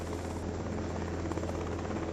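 A waiting helicopter in 428: Shibuya Scramble, its rotor chopping steadily and loudly as a dense, continuous roar with no pauses.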